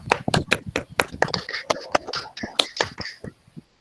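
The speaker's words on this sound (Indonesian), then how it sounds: "beri tepuk tangan buat kelompok 3" A classroom of students claps for a student group after its presentation, sharp uneven handclaps from a small group that are close and distinct, then taper off.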